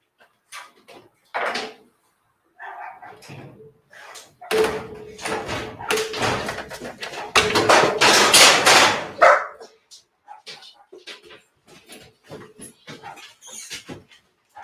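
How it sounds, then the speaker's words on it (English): Great Dane of European bloodline barking near a small-engine shop, a series of loud, irregular barks and bursts, with door-like knocks and scattered thumps around them. "Loki. He is a European Great Dane bloodline."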